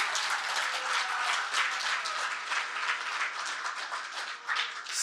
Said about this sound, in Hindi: ताली बजाइए, अभिनंदन कीजिए।